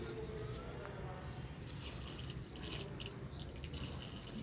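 Ordinary tap water pours steadily into a clay pot filter, a continuous splashing rush that stays even and close with faint background sounds.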